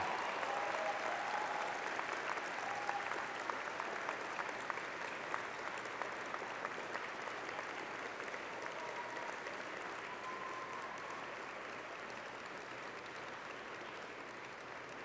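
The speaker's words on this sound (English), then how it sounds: "I ask your friends and family to join me in applauding the amazing 50th anniversary graduating class of June 2016." Sustained applause from a large convocation audience of friends and family for a university graduating class, a steady, even wash of clapping heard from a distance throughout.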